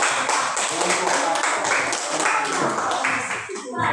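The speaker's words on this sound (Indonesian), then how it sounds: "Tepuk tangan dulu buat" A classroom group claps for group A after a math presentation, a dense burst of hands lasting several seconds, with a teacher's voice speaking over it.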